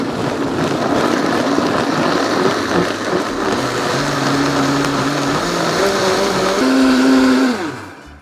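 A kitchen blender whirs loudly and steadily as it purées ground cumin, dried oregano and garlic cloves for birria, its motor pitch sliding upward near the end before cutting off, with no talking.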